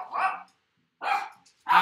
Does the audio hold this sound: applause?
no